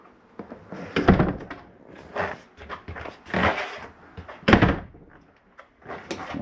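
Interior doors closing inside a 2015 Montana 3720RL fifth-wheel RV, several soft thunks and latch clicks at uneven intervals, close by and moderately loud, with no talk.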